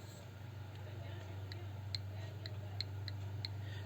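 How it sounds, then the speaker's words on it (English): An electro-magnetic pulse motor ticks lightly, a run of faint, evenly spaced clicks over a steady low hum, close by. "It's making a very light ticking sound from this guy here."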